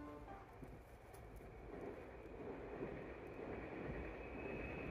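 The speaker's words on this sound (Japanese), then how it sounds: "ついに待ちに待った特急が来たあ" A limited express train, an 8600 series, roars across the Yosan Line's Kamogawa bridge in Saijo, Japan at a distance, a broad, steady rushing rumble that swells slightly toward the end with no talking.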